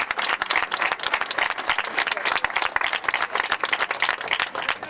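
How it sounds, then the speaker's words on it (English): An outdoor audience at a Putnam County heart walk event breaks into steady applause, dense clapping from many hands sustained throughout at a moderate distance. "You can clap."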